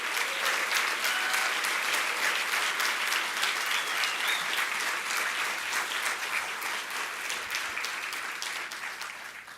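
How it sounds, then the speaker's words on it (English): Sustained applause for a graduating physical therapy class at a hooding and pinning ceremony, a broad room-filling crowd clapping steadily and slowly easing off toward the end. "let's give a round of applause for the class of 2023"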